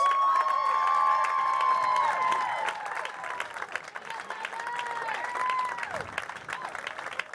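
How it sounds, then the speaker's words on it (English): Crowd applause and cheering at a boys state basketball finals, a big arena clapping for the finalists with scattered whoops, loud at first and then easing to a lighter, steady patter under a public-address voice. "Let's give another round of applause for our 2 state finalists."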